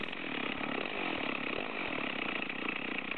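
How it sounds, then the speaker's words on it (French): Stihl chainsaw cutting through a log, with a dense, continuous high-revving buzz close by and loud, holding steady under load throughout with no pauses. "On continue tranquillement de tronçonner. La tronçonneuse est portée par l'arbre"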